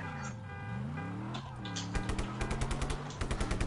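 Rapid automatic gunfire rattles in Just Cause, sharp repeated shots in bursts over a sustained engine or vehicle drone and tonal background hum.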